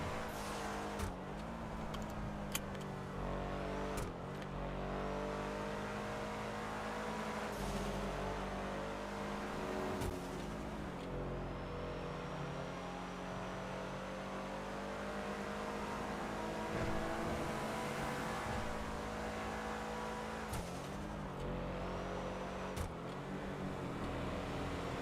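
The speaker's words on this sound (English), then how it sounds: "I didn't want to blast you guys out with engine noise and stuff like that" Steady car engine and road noise while driving on a highway, a continuous low rumble heard from inside the vehicle with no talking.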